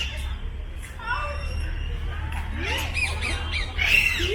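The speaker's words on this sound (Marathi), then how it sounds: "आजूबाजूला सुंदर सुंदर पक्ष्यांचे आवाज येतात" Several birds squawk and chirp repeatedly at the Hanging Gardens in Mumbai, their calls overlapping in rising sweeps above a steady low hum.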